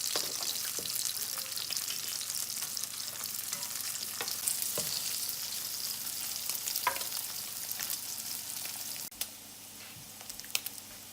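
Slices of Spam frying in a pan make a steady close sizzle, with a few faint scrapes and clicks as they are turned over.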